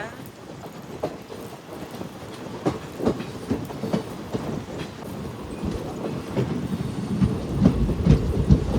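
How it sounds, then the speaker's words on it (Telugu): A passenger train on the Guntakal to Markapur Road line rolls into Tarlapadu station, with a steady rumble and irregular clacks of the wheels over rail joints. "మన ట్రైన్ అయితే ఎంటర్ అవుతుంది తర్లపాడుకి."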